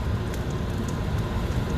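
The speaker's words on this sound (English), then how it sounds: "Can you hear that crackling?" Chicken fresh from the oven crackles and sizzles in a hot pan, a steady dense hiss with fine popping, close and fairly loud, no talking.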